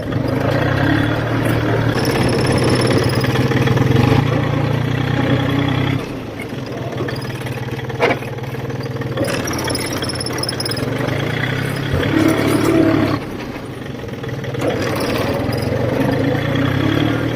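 A 20 hp Iseki Landhope two-axle tractor with about 500 hours runs steadily as it drives, its low diesel drone close and continuous with shifts in load and level throughout.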